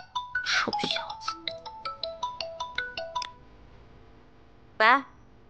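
Mobile phone ringtone for an incoming call, a bright melodic run of repeated electronic notes nearby, then a pause and a single short rising tone.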